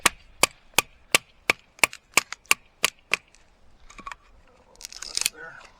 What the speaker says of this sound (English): I have no problem doing light batoning with Mora knives.